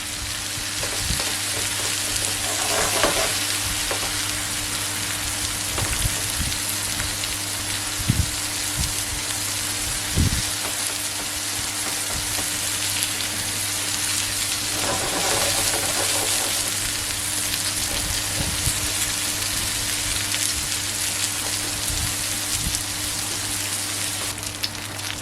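Small fish frying in olive oil in a pan, a steady dense sizzle that continues throughout with occasional louder pops and crackles, close by with no talking.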